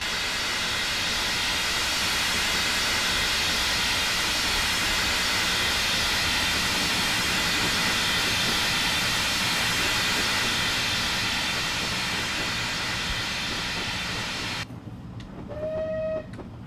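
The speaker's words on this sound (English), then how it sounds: "especially when a train goes by like this" A train passes close by in Train Simulator 2020, a loud, steady roar of rolling wheels and hissing that fills most of the clip before cutting off near the end, leaving a faint tonal sound.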